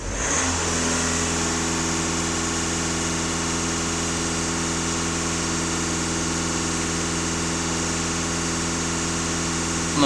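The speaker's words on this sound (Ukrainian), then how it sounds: "Як завжди, даю оберти." A Volkswagen Passat 2.0 TDI diesel engine with high mileage runs steadily at raised revs, a loud, even drone held close by throughout with no talk.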